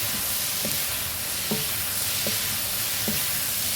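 Green beans stir frying in a hot pan give a steady, close sizzle broken by four soft scraping stirs at regular intervals, with no voices.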